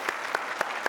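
Quiz-show contestants applaud themselves in a studio. Four crisp, evenly spaced claps land about a quarter second apart, close and distinct.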